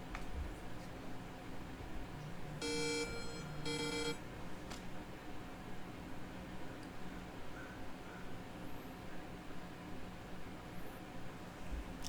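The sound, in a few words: phone ringtone from an incoming call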